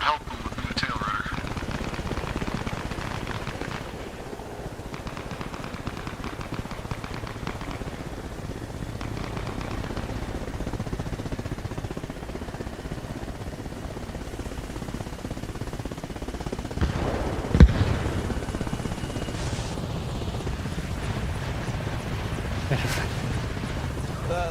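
Helicopter with a damaged tail rotor in the video game Arma Reforger, a constant rotor and engine rumble with gunfire-like pops and one sharp bang, heard under people talking.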